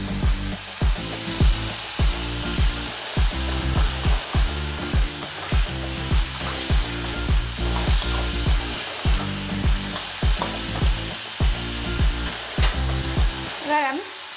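Ginger-cumin paste, salt and turmeric fried with potatoes in a pan for a mourala fish curry: a close, continuous sizzle broken by regular, evenly spaced spatula scrapes and stirs.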